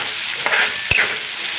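Onion fries in a pan for a chickpea usal, a close, steady sizzle with two quick stirring scrapes of a spoon.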